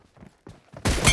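Gunfire from an M24 sniper rifle in a video game shooter match: after a few soft thumps, a loud, sharp report bursts out near the close and rings on with a bright tail.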